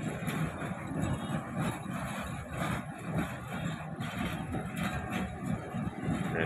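Khyber Mail passenger train rolls around a curve near Rohri railway station, a faint, continuous rumble and rattle of wheels and carriages heard from a distance with no speech.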